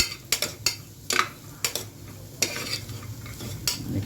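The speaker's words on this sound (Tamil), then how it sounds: "இப்போ நம்ம ஆல்ரெடி எடுத்து வச்சுருக்க 1 கப் கேரட்டு இது முதல்ல போட்டு கொஞ்சம் லைட்டாக திருப்பி விடுவோம்" Carrots are stirred into fried onions in a pan for vegetable soup. A spoon scrapes and knocks against the pan in sharp, uneven strokes over a soft, steady sizzle.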